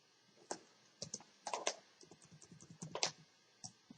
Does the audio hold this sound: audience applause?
no